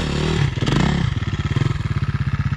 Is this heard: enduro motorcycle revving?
yes